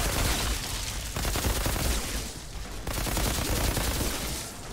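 Sustained weapon fire from Outriders, a dense, continuous stream of rapid shots at steady loudness with a short dip midway, heard without talk.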